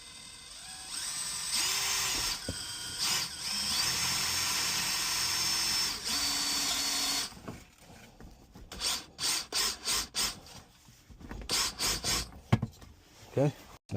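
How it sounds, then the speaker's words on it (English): A power drill whines steadily for several seconds, then stops, followed by short bursts of drilling and scraping close up, boring a hole in a truck interior to mount a wireless charger. "now let's get your hole drilled."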